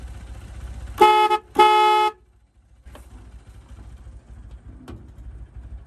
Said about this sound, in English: This thing has a cooler horn than every car made after the year 2000.